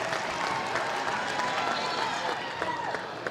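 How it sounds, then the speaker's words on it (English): Crowd applause for all-region high school girls basketball players at a Region 3 tournament, a steady wash of clapping in a gym with voices mixed in throughout. "A nice round of applause to all those young ladies"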